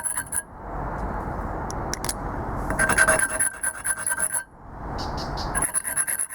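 A Coleman lantern part rubbed back and forth on concrete, giving a gritty scraping rasp in long strokes with short pauses and a few light clinks, close and clear with no talk.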